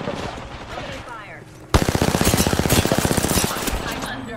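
Automatic weapon fire in the battle royale shooter Apex Legends, a loud rapid burst that kicks in abruptly and hammers on in a steady stream of close shots, preceded by quieter game noise and faint voices.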